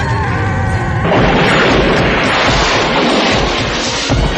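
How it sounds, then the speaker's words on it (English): A massive explosion in the 1978 film The Fury bursts in suddenly, a loud roaring blast that rumbles on for several seconds. "this is one hell of an explosion"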